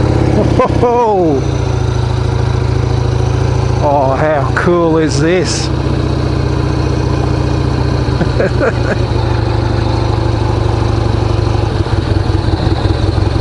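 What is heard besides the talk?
Harley Davidson XR883 custom motorcycle engine running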